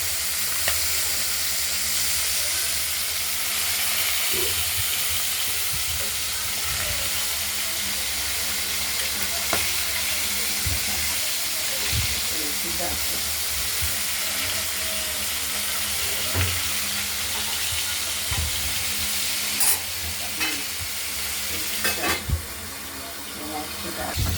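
Katla fish pieces frying in a covered pan give off a steady, loud broadband sizzle that runs throughout, with occasional sharper pops and crackles.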